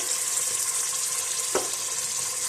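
Ginger garlic paste fries in a pan with spiced oil, giving a steady close hiss of sizzling with one brief clink or scrape partway through, no voices.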